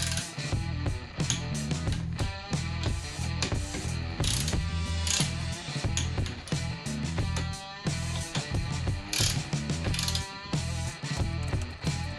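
Ratchet wrench tightening bolts on a Peugeot TU1M engine from a Peugeot 106 during a rebuild, with torque set to 20 and then turned 45 degrees. Rapid, steady pawl clicking runs loud and close for the whole stretch over a dense background.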